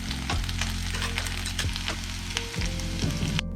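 Onion fries in a pot until lightly browned for vegetable pulao, a dense, steady sizzle with periodic scraping strokes of a spoon stirring through it.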